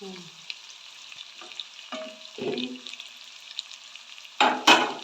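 Onions, ginger and garlic fry in a pan, a soft steady sizzle broken by a few stirring scrapes and a louder clatter near the end, with no talking.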